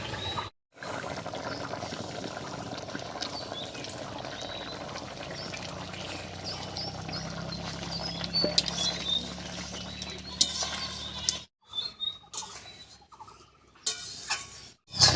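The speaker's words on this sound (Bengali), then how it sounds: "এবারে ভেজে রাখা মাছগুলো দেবো" Fried rohu fish pieces go into a boiling bottle gourd curry and are stirred, with a continuous bubbling patter and scraping close by, broken by two brief silent gaps.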